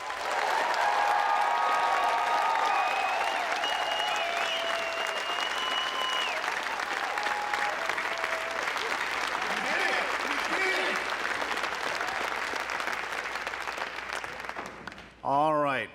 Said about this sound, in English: can we get a round of applause for all these amazing graduates?